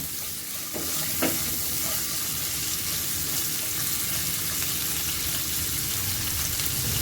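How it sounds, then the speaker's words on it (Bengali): Drumstick vegetable (sajne data) pieces fry with a little salt in a wok, producing a dense, steady sizzle close by, with a few spatula knocks near the start. "এর মধ্যে সামান্য নুন দেব, দিয়ে সজনে ডাঁটাটা আমি ভেজে নেব।"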